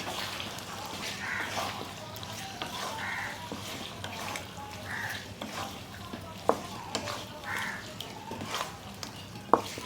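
Chicken with spices being stirred and fried in a pan, a steady close sizzle broken by repeated scraping stirs and a few sharper knocks of the spoon against the pan.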